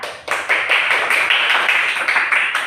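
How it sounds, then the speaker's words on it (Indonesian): A classroom of students claps for a group after its presentation, producing brisk, fairly close clapping that pulses in quick waves and continues for a few seconds without talk. "kita kasih tepuk tangan dulu buat kelompok Mawar"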